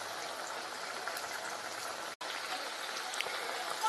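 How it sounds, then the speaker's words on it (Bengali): Drumstick flower fritters fry in hot oil, a continuous fine crackling sizzle at moderate volume, briefly cut off once midway before resuming. "এইভাবে আমি সব বড়াগুলো ভেজে নিচ্ছি"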